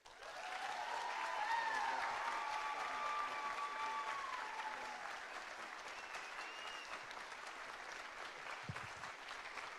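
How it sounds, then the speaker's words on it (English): A concert audience applauds a high school symphonic band at an honor band clinic, a dense, sustained wash of clapping that swells early, then gradually thins and softens toward the end. "Please give this very fine band a big round of applause."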